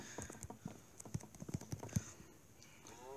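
A horse in Minecraft Pocket Edition clip-clops in a quick run of hollow, even hoofbeats, fairly quiet and close, fading toward the end with a faint game sound after.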